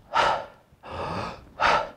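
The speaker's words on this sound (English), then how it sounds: "the way that it works is you take 10 deep breaths" Three deep breaths in a breathing exercise, each a loud rushing breath of roughly half a second, two sharp gasping inhales around a slower, steadier exhale, close up with no talking.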